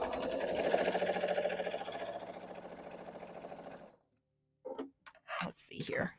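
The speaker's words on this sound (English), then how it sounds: "I'm going to sew a careful 1/4 inch on either side of that drawn line" A sewing machine stitches quilt basket blocks a quarter inch from a drawn line, a rapid, even mechanical chatter running close and steady for about four seconds before stopping, followed by soft handling noises.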